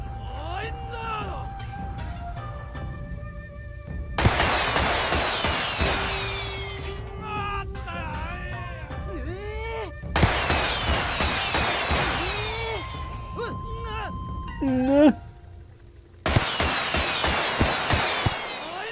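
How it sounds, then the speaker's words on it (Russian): Gunfire in the video game Totally Accurate Battle Simulator comes in sharp bursts of shots every few seconds, mixed with busy game effects while someone talks over it. "Ни один мой выстрел не проходит сейчас"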